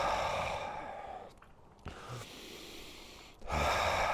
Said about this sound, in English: Really let those exhales drop.